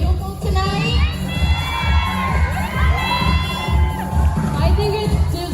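An audience at a beauty pageant cheers and shouts with high whoops and children's voices, a dense steady crowd roar sustained throughout at close, loud level.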